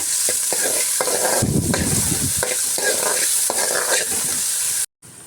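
Finely chopped onions fry in hot oil for a soya masala gravy, a loud continuous sizzle broken by repeated scraping stirs and one heavier spatula push, then a brief cut to silence near the end.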